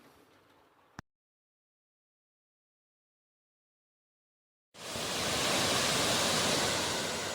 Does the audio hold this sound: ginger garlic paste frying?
no